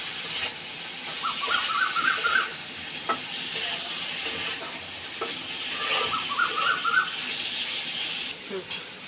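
Potato pieces and soybean chunks sizzle steadily while being stirred through a spice paste in hot oil, a continuous close frying hiss with occasional scrapes and faint background sounds.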